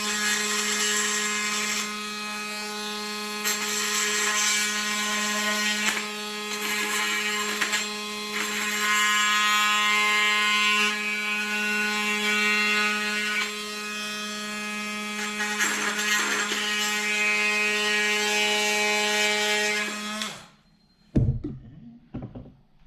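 Oscillating multi-tool trimming about an eighth of an inch off a packout adapter plate for a 2024 Renegade XRS, a loud steady buzzing whine running continuously for about twenty seconds before cutting off, followed by a few faint clunks.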